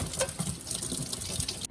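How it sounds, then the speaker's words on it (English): Cold tap water runs over freshly boiled, strained almonds, a close, continuous splashing with patters and drips and no talking. "And then run it over cold water."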